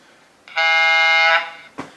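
A model train horn from a Broadway Limited HO-scale New York Central 4-8-4 Niagara locomotive blows one steady, harmonically rich chord for under a second, followed by a short click.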